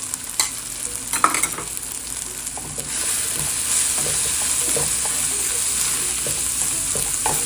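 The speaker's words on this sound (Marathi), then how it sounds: "थोडंसं ढवळून घेऊ." Spices, Kashmiri chili and garam masala, sizzling in hot oil in a pan for a spicy hot dog sausage masala, stirred with a few scraping strokes as a steady close frying hiss builds up.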